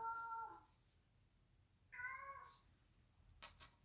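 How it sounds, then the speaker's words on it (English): A cat meows twice, a drawn-out cry followed by another after a pause, then a brief rustle; fairly close and otherwise quiet. "My cat's crying. He wants to go outside."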